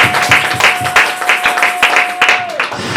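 A church congregation at a thanksgiving service claps in a fast, steady rhythm, loud and close, while a sustained sung or played note holds underneath and voices mix in.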